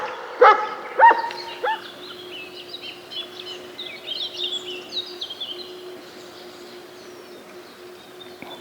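A dog barks three times early on, sharp and fairly close, while birds chirp and twitter in the background.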